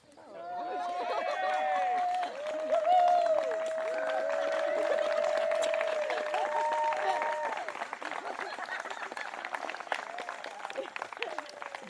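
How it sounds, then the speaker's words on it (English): Wedding guests cheer and applaud after the bride and groom, Chuck and Sherry, kiss as husband and wife, a sustained crowd swell of clapping and whoops lasting several seconds with voices mixed through it. "audience will be likely to cheer and applaud"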